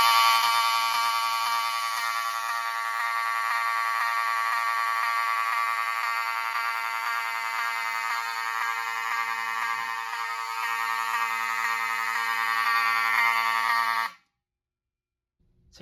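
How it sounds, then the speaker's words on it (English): A Notifier 4885 fire alarm control panel buzzer sounds continuously after a pull station and smoke detector are triggered, a loud steady electronic buzz with faint periodic clicking underneath, holding for about fourteen seconds before abruptly stopping into silence. "So let's begin by activating the pole station and one of the smoke detectors."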